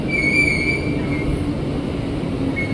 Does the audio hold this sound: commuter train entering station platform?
yes